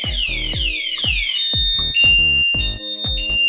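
A loud car anti-theft alarm wails in repeating sweeping tones, broken by sharp electronic chirps and pulses, close and piercing.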